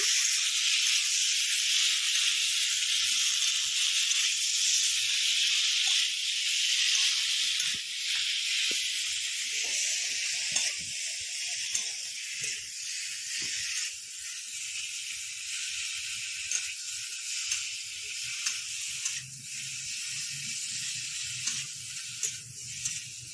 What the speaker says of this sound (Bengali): হালকা ভাজবো বন্ধুরা, বেশি করে ভাজবো না।